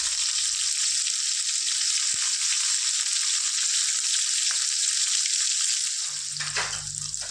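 Sliced onion and green chilies fry in oil in a pan with mustard seeds and cumin, giving a loud, steady, close sizzle. A low stirring rumble comes in near the end, and nobody speaks.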